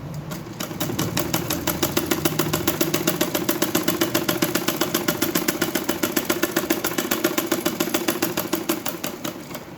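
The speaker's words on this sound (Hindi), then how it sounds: "अब मैं इसे ऐसे ही हाथ रख रख के इस पे पूरा सिलाई लगाऊंगी" A sewing machine stitches a lined suit in a fast, even run of rapid mechanical ticks over a humming motor, close and steady for nearly ten seconds with no talking.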